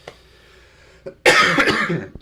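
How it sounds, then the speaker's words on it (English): A single harsh cough bursts out close by, preceded by a quieter throat sound, with a brief breath at the end. "So sorry for the cough"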